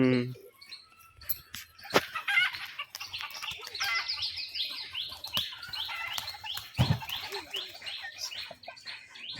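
Pigeons kept in a loft coo and flutter close by, a steady layer of soft calls and chirps with a sharp wing clap near the start and another thud midway, amid rustling and faint background noise.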